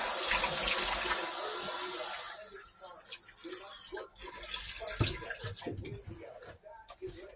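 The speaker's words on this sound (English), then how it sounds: "Now I'm going to put the same amount of water, cold water." Cold water runs in a steady stream for about two seconds while being poured for a salad dressing, then stops, followed by quieter clinks and handling noises.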